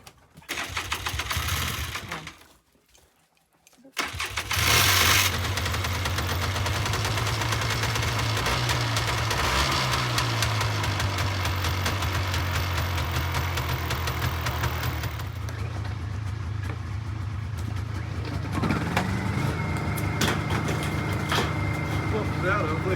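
An engine runs steadily close to its exhaust at an off-grid Alaskan cabin, a loud continuous rumbling drone after a brief dip, with people talking over it.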